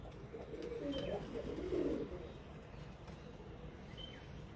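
Pigeons coo softly in a loft of Iraqi racing birds, a few low burbling calls across a quiet, slightly noisy background.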